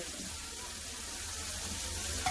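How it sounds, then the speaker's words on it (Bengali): Spices for lentil dal fry in a pan, making a faint, even sizzling hiss with no talking. "এবার মশলাটা ভালো করে কষে নেবো"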